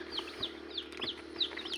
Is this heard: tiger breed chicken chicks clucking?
yes